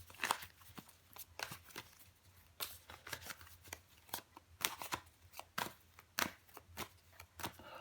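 Tarot cards being handled, shuffled and laid out during a reading, giving repeated soft flicks and slaps of card stock in irregular bursts, close and fairly quiet, with no talk over them.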